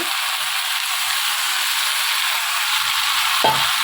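Marinated young, tender mutton sizzles steadily in a pan for kosha mangsho, a constant hiss with no talk, broken near the end by a brief clatter.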